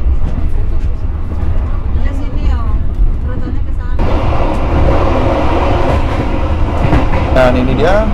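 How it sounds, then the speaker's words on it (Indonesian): A cheap Indonesian passenger train on the Surabaya–Jakarta route rumbles along the rails with a steady low roar and rhythmic clatter, heard from inside the carriage with someone talking over it. "untuk kebisingan dari kereta sendiri tidak terlalu bising, cukup masih di level yang cukup nyaman untuk sebuah kereta penumpang"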